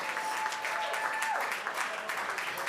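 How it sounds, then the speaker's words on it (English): Continuous applause from a fundraising gala audience, a soft, even wash of clapping from a large room, with a brief tonal whine passing through the middle. "You can keep on clapping."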